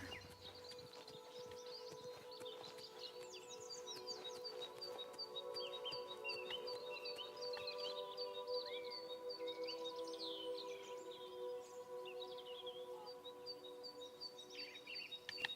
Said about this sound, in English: So much birdsong.